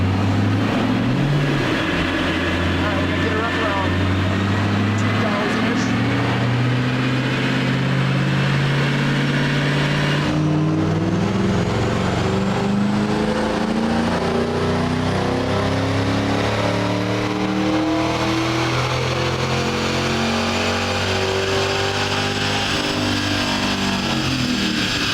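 A Ford Mustang GT engine on a dyno revs hard and continuously, the tone climbing steadily through the gears with a brief dip near the middle, loud and close throughout with no talking.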